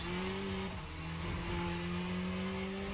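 A race car engine in the Le Mans Ultimate sim racing game holds a steady, droning tone with a slight dip in pitch partway through, continuous and fairly loud with no talk.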